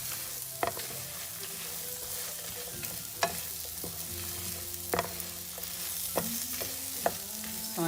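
Paste ingredients for a Mangalorean crab curry masala frying in coconut oil, a steady low sizzle with occasional sharp scrapes and clinks of a spoon against the pan, no talking.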